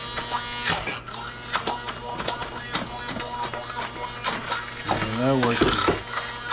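A kitchen grinder grinds up vegetables such as beets for food, a continuous buzzing motor whine running under a person talking.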